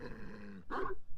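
A dog in the Ace Attorney Investigations 2 video game gives one brief, close growl after a moment of quiet.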